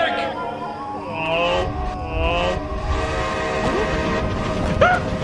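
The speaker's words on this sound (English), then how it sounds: "A ghost train!" Ghost train approaching in the Lego Dimensions video game, a sustained rumbling, horn-like tone rising under game music and character voices, with a few whistle-like swoops near the end.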